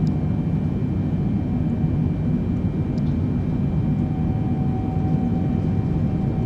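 Jet engines of a simulated Boeing 777 freighter spool up for takeoff in Microsoft Flight Simulator 2022, a steady, continuous low roar with a faint high whine, loud and unbroken throughout, with no talking.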